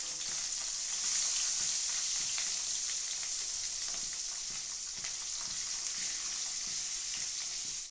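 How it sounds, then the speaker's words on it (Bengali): Rohu fish frying in hot oil for a Bengali thin fish curry with papaya and potato, giving a loud, steady sizzle that runs without a break for the whole stretch, with a few faint crackles and no voices. "তেল মোটামুটি গরম হয়ে গেছে। এবারে আমরা আস্তে আস্তে মাছগুলোকে"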